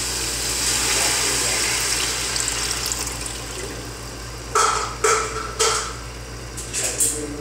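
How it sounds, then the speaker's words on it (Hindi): Water is poured into a pot of cooking chicken pulao: a steady sizzle first, then several loud splashing pours in quick bursts near the end. "अब हम इसमें पानी डाल देंगे।"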